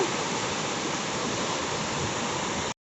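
Swollen floodwater rushes past after a whole night of nonstop rain, a steady, dense roar close by that stays even throughout and then cuts off abruptly near the end, with no voices.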